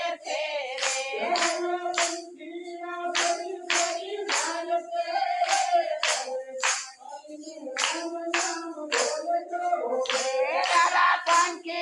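Hands clap in a steady, regular beat along to a Gujarati devotional song chanting Ram's name. A group of voices sings throughout, and the claps stay prominent and evenly spaced.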